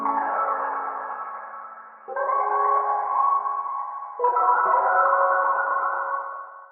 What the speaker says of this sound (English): Just wanted to make almost a texture out of a guitar. Hit the chords really hard here.